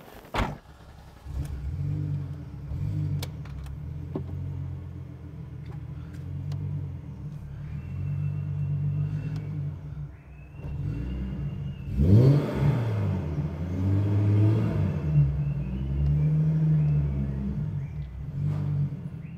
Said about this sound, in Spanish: No desarmes, Luis, que vamos a mover el carro. Vamos a sacar la Caddy